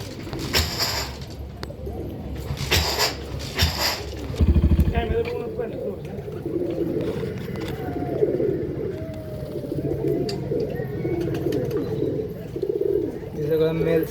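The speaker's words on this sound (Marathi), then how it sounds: "5-6 लाईनीचे कबूतर आहेत ह्याच्यामध्ये।" Female pigeons in a breeding setup housing five or six lines coo continuously, low rolling coos close by, with a brief rustle or flutter midway and someone talking throughout.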